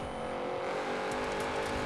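A Porsche 928 GTS engine racing in Forza Horizon 4, a steady sustained drone at high revs with faint tire noise, no talk over it.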